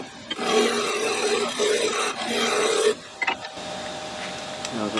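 A wooden mallet blank cut from a 4x4 is shaped smooth with a rasp-type tool. Close, continuous gritty scraping comes in long bursts, then short strokes follow over a steady background hum.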